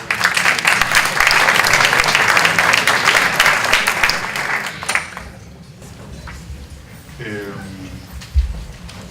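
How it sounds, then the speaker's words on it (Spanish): Loud audience applause for a speaker introduced to present his work, La Cautiva, fills the room for several seconds, then fades out, leaving quieter room noise. "Fuertes aplausos para él, por favor."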